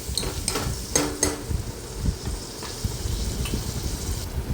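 Tomatoes cook and soften in a pan on a stove while a spoon stirs and scrapes, giving a few clinking taps against the metal over a steady low sizzle.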